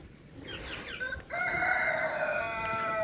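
Chickens on a backyard farm with laying hens: a rooster crows loudly and clearly in a long drawn-out call, with soft clucking from hens before it and a faint hum behind.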